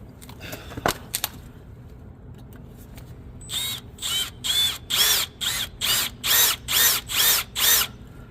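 A power drill bores into a KTM motorcycle oil filter cover bolt in a series of about nine short, regular bursts, each a loud whirring pulse, after a few quieter knocks and a stretch of low background hum.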